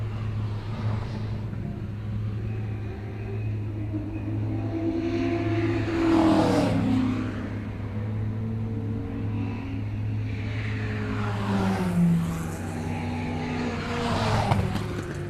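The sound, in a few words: race cars of the Sports and GT race on circuit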